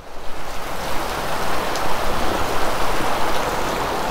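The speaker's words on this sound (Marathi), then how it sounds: "झड आहे" A steady, loud rush of torrential rain fills the clip evenly from start to finish, nearby and unbroken, with nobody talking over it.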